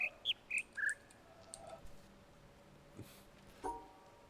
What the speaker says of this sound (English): Birds are getting pretty noisy now.